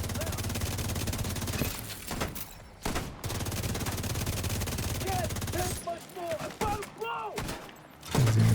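Video game gunfire pours into a group of sniper turrets as a long, dense run of rapid shots, broken by brief pauses, with chirpy game effects later and a heavy thump right at the end.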